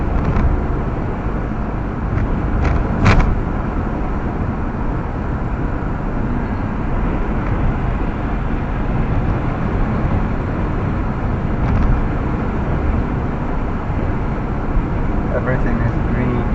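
Steady road traffic on a green, scenic road near Carmel, heard as a continuous broadband rumble and hiss of passing vehicles that holds at an even level throughout, with a few brief sharper peaks along the way.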